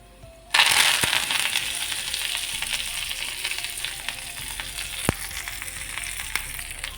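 Chickpea greens hit a pan of hot oil with crushed garlic and start frying with a sudden loud sizzle, then keep crackling steadily, with a sharp clink or two from stirring.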